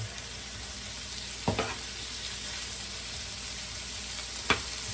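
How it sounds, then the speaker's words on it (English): Shrimp frying in a pan with a steady, even sizzle throughout, broken by two brief louder clatters of stirring or utensil contact. "This really smells amazing as the shrimp cook and start to release the oils"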